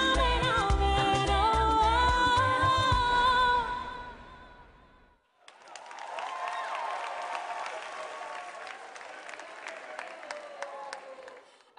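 Music with singing fades out at a beauty pageant grand finale, and after a brief silence a crowd breaks into sustained applause, clapping densely and evenly for several seconds.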